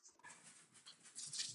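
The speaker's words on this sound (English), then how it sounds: "the dogs are playing" Dogs play in the background, letting out soft whimpers and small yips over a faint, quiet room hiss.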